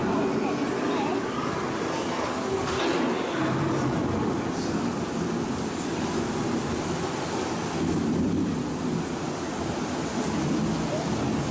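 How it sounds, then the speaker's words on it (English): A thunderstorm sound effect plays on the Living with the Land boat ride at EPCOT, a dense, loud wash of rain and rumbling thunder with a voice faintly beneath it. "The approaching storm may seem violent and destructive to us"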